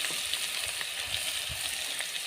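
Small native shrimp fry with taro greens in a pan on a clay stove, producing a dense, even sizzle that stays close and loud through the whole short stretch.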